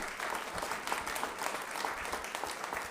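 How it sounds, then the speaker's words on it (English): Audience applause at a city council meeting, a steady wash of many hands clapping at even strength throughout, with no voices over it. "So a big round of applause for Reyes Carrizales,"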